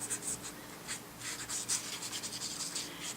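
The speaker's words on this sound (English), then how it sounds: "I'm going to use a zig pen to do it" A Zig pen scratches across white paper in short, quiet strokes with a steady rhythm of small bursts, close up and alone.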